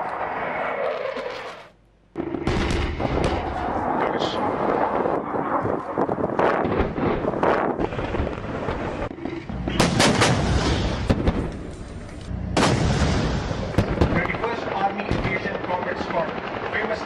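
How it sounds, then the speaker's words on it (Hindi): Live-fire demonstration of gunfire and artillery at Tilla field firing range, heard as a dense run of booming blasts and crackling shots with loud bursts around the middle and later, a short dip near the start, under news-style narration. "मेहमानों ने टाला फील्ड फायरिंग रेंज में मुश्तरका फायर"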